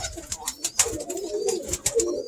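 A Birmingham Roller pigeon cock gives soft, low coos close by, a few short murmuring phrases against faint background noise and a brief voice.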